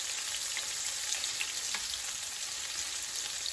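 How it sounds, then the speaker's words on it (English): Thick battered food frying in hot oil gives a steady, close, dense sizzle with fine crackling throughout, no voices. "the ones with a thick batter are frying up beautifully"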